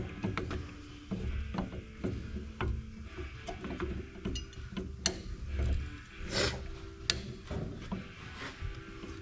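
Small metal scraping and ratcheting clicks from a ring groove cleaner working around the piston ring grooves of a 1958 John Deere 420 tractor engine, with irregular taps and scrapes close by and no talk.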